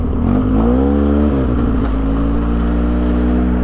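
A 2003 Polaris Sportsman 700 quad's engine runs loud and close, rising in a strong rev then easing back to a steady, throaty idle-like drone on a downhill ride.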